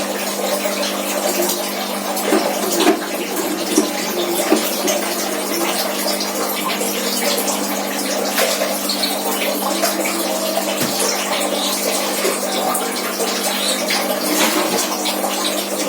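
Water pours steadily into gallon jugs used for raising catfish, a continuous close splashing rush that holds an even level for the whole stretch.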